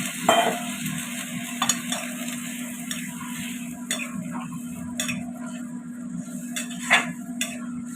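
Spiced greens fry in oil with water just added, giving a steady close sizzle broken by occasional clicks and scrapes of stirring, with no talking.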